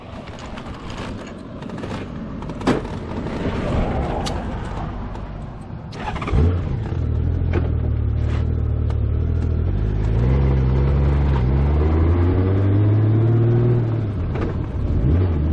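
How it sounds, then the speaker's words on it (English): Engine of a 1992 Honda Goldwing GL1500 Aspencade motorcycle while riding on a gravel road, a loud steady low drone that rises and shifts pitch as the bike accelerates, with wind buffeting throughout. "The old Goldwing's plugging along, no trouble at all."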